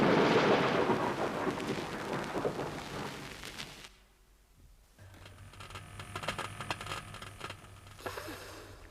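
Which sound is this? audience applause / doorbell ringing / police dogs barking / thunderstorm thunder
thunderstorm thunder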